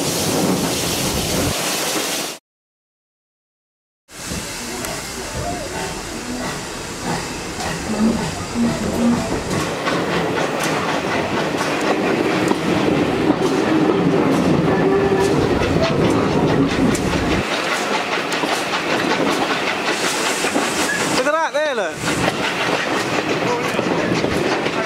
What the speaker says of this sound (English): Nice train, that.